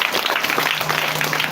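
Crowd clapping in thanks at a wash-facility handover ceremony at a primary school, a dense, continuous patter of many hands, fairly loud and close throughout the short stretch.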